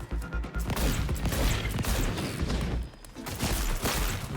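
A rapid fusillade of video game gunshots crackles and booms in dense bursts, loud and continuous with brief lulls, with no talk over it.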